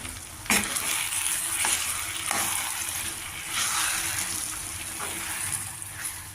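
A frying onion and spice mixture, with water just poured in, is stirred vigorously: strong continuous sizzling with repeated scraping strokes of the spoon against the pan, close up and without speech.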